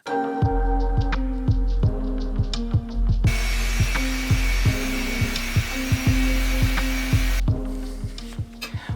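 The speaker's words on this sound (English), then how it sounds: "Wet polishing doesn't seem to be cutting any better than dry polishing" A power polisher grinds wet across a concrete countertop with a steady mechanical whine, broken by regular rhythmic clunks, close and fairly loud, with the pitch shifting as the tool load changes.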